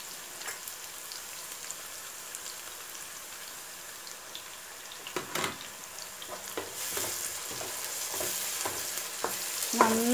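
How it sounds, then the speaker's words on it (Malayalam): Sliced onion sautéing with ginger-garlic paste in a pan for Kabali rice, a faint steady sizzle at first that grows louder and hissier toward the end, with scattered scraping stirs. "നന്നായിട്ട് ഗോൾഡൻ കളർ വരുന്നത് വരെ നമുക്ക് വഴറ്റി കൊടുക്കണം"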